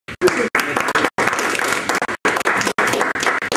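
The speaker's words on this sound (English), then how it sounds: "So can we have a round of applause for this?" A crowd at an inventors society talk applauds with steady, loud clapping, broken by a few brief pauses.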